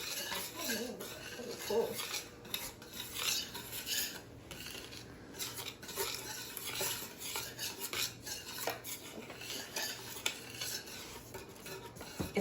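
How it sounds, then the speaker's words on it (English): Dry cake ingredients being whisked in a bowl for a Depression-era wacky cake, a soft continuous scraping and tinkling of metal against the bowl, fairly quiet, with one brief spoken word. "you can go ahead and very carefully whisk the ingredients together"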